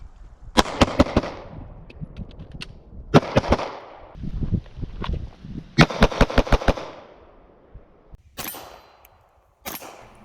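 A Sig Sauer P365 pistol, a compact concealed-carry handgun, fires in sharp, loud bursts of rapid shots separated by short pauses, with no talking.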